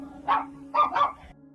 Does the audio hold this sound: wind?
no